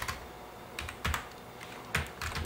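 Someone types on a computer keyboard while writing HTML, with quiet close key clicks coming in small bursts and short pauses between them, no voices.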